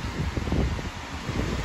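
Gusty wind buffets the microphone in a steady, rough roar with small surges, and no voices.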